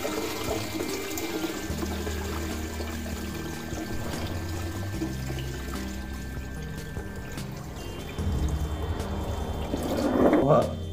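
Poha (flattened rice) is washed in water in a kitchen, with sloshing and pouring that swells into a louder splash near the end, against a faint background hum.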